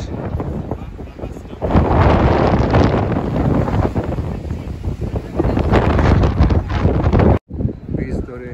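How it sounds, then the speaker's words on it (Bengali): Strong, cold wind buffets the microphone on Coney Island beach in Brooklyn, a loud continuous roar with gusts that swell and ease, cutting out abruptly near the end; a voice may be faintly present under the noise. "প্রচন্ড বাতাস।"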